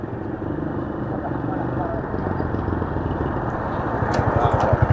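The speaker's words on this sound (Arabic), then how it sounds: "لا هو الموتور جاي." A motorbike draws closer along a rural road, a rough low engine drone swelling gradually and growing loudest at the end, with a broad outdoor rumble throughout.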